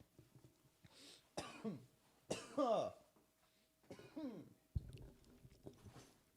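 A person coughs repeatedly in harsh, raspy bursts with short pauses between them, close and fairly quiet.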